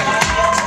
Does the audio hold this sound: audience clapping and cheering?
yes